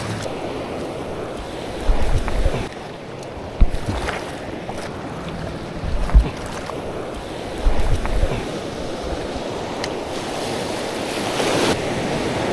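Big ocean waves wash and slap around a small fishing boat off Dinggalan, Aurora, with steady wind buffeting the microphone and a few heavier surges standing out.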